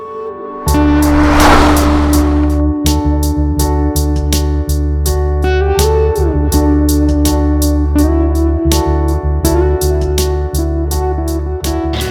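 A new Citroën C3 car drives with a loud, steady engine hum and rising and falling revs, with regular clicking and tapping and some tire noise, close to the microphone.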